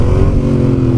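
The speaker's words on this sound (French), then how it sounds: "Un petit coup de gaz et tu la laisses couler." A motorcycle engine runs loud and close, with a short throttle blip whose pitch rises then eases as the bike coasts along steadily.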